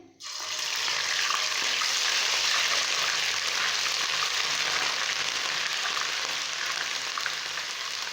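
Steady, dense sizzling of ginger garlic paste frying in hot oil, close and loud, with no pauses and no talking.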